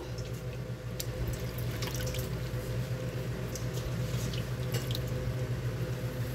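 Spinach for palak paneer is lifted out of cold water into a basket, with water dripping and splashing nearby and soft wet squishing sounds running steadily throughout.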